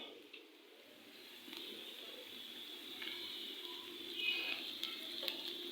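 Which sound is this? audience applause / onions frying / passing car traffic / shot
onions frying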